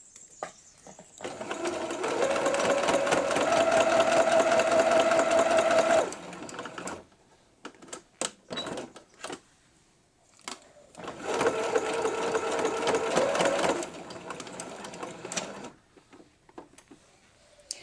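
Sewing machine stitching a quilt block seam for an Ohio Star block, running in two steady bursts of several seconds each, separated by a quieter stretch with light handling clicks.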